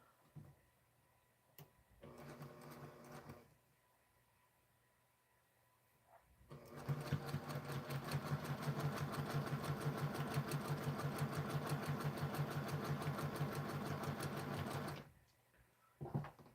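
A sewing machine chain pieces quilt fabric in two runs, first a short burst of stitching, then a long steady rapid chatter lasting about eight seconds before stopping, close and fairly quiet.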